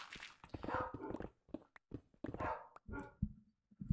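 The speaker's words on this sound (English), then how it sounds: "Bark, bark, bark, bark, bark, bark." A Minecraft dog barks and whimpers in uneven bursts, mixing longer yelps with short, clipped barks and soft footstep-like taps in the pauses.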